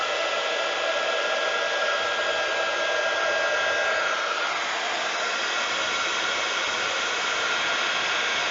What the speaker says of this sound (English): So we've just got my heat gun here. This will be a little bit noisy